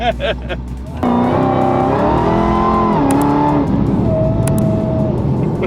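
A Dodge Hellcat tuned past 1000 horsepower accelerates hard, its engine note climbing and dropping through smooth gear shifts, loud from inside the car, with a faint voice at times.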